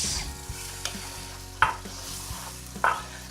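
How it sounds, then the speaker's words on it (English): Sauce sizzles and spatters in a hot pan, with a utensil scraping and clacking against it now and then. "I'm gonna dump in this sauce. There we go, let it sizzle away."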